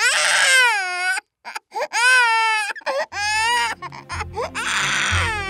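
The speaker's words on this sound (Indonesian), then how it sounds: "menggendong bayi yang suaranya menjadi serak karena tak mau berhenti menangis" A baby cries hoarsely while being held, its rasping wails and sobs coming in repeated strained bursts with brief gasping pauses, loud and close, with a low background rumble creeping in toward the end.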